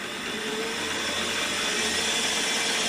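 A drill cuts a center dimple into stainless steel for a fillet knife, giving a steady, even whirring hiss that holds at the same level throughout.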